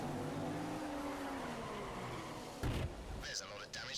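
Ferrari-engined Formula 1 car in the F1 2015 racing game, engine whine sliding down in pitch as it slows, then a sharp thump and wavering squeal of tyres, with someone talking over it.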